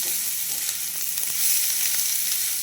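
Teasel gourd frying with turmeric, salt and cumin powder in a pan, giving a close, steady hiss of sizzling oil with a few soft stirring scrapes.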